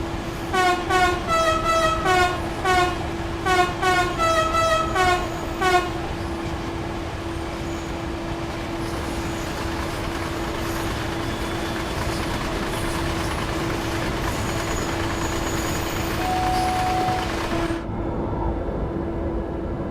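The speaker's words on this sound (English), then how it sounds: "Such a beautiful train to drive though, the Vetron." A Vectron German freight train in Train Sim World 4 opens with a series of loud horn blasts, then settles into a steady rumbling run with a constant electric drone before the sound cuts off abruptly near the end.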